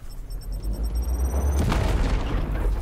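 A hand grenade detonates in the video game Warhammer 40k: Chaos Gate - Daemonhunters, a deep booming blast with a low rumbling tail, set against faint game tones.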